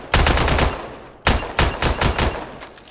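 M16A1 rifle fired on full auto in the game Badlanders: a sustained loud burst, a short pause, then a second string of rapid shots in uneven clusters, with no talking.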